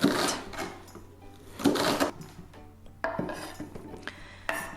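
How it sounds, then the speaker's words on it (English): Kitchen knife dicing a red bell pepper and a white onion on a board, heard as clustered bursts of quick chopping taps separated by short pauses. "I'm going to take 1 red bell pepper and dice it."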